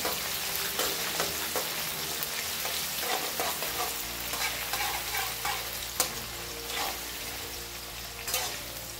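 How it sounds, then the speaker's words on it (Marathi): Finely chopped onion frying in a pan after cumin until reddish: continuous loud sizzle with rhythmic stirring scrapes and taps of the spoon throughout, heard alone without talk. "कांदा लालसर होईपर्यंत आपल्याला हे परतवून घ्यायचं आहे"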